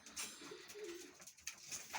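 Pigeons coo softly inside a pigeon loft, low rolling calls against a quiet background hiss, no voices present.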